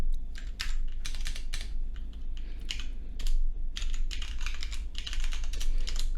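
Steady typing on a computer keyboard, a quick, dense run of close key clicks over a low hum, with no voices.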